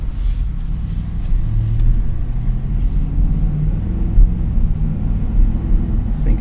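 A 2025 Ford F-250 Lariat Tremor with the 7.3L V8 rumbles steadily while driving, a continuous low engine drone with road noise and no talking.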